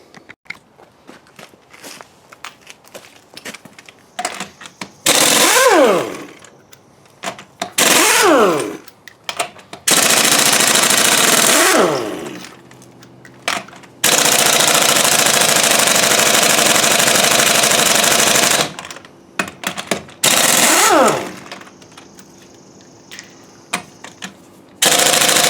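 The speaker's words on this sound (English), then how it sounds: "got my little portable sawzall here" A portable Sawzall reciprocating saw cuts through a leaf spring on a 1997 Dodge Ram. Loud, harsh buzzing bursts of cutting come in several runs of varying length, separated by quieter pauses with small clanks.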